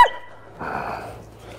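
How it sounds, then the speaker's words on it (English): A large Newfoundland dog lets out a sharp yelp, then a low, rumbling growl that swells and lingers close by, with no voices over it. "No, growling. We do not growl, Harry."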